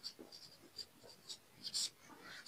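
Chalk or marker scratches out a short word on a classroom board in a few faint, quick strokes, quiet and close, with no talking over it.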